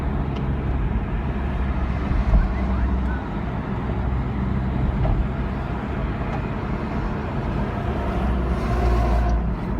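Steady low road rumble and tyre roar from inside a car driving along the N1 highway in Gauteng, a continuous loud drone with faint passing traffic.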